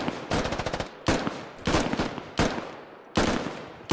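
Automatic weapon fire in the military shooter Squad: several sustained bursts of rapid shots, loud and close, separated by short pauses, with no talking.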